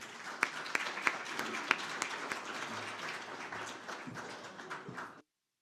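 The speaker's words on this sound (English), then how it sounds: "So if you'll please give them all a big round of applause as they come up." Conference audience at a farming event applauding panelists walking onto the stage, fairly faint and somewhat distant, with a few sharp individual claps standing out early before it tapers and stops abruptly.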